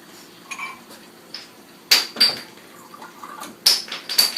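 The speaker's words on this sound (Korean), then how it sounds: "동량으로 풀어주시고요. 이렇게 풀어주세요." A spoon clinks and scrapes against a bowl while cornstarch and an equal amount of water are mixed into a slurry for mapo tofu, producing sparse, close taps and scrapes with quiet gaps between them.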